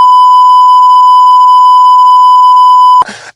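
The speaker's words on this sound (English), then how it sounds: "Bleep these names out too when we say," A steady censor bleep tone holds unbroken for about three seconds, loud and alone, covering spoken names before a brief burst of voices cuts in at the end.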